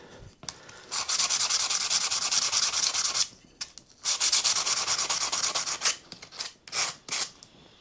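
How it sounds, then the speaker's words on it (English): Hand sanding polyfiller off the body of a Squier Stratocaster guitar, a close, loud, steady rasping scrape in long strokes, broken by a pause of about a second and then a burst of shorter, choppier strokes. "So we'll just give that a sand off."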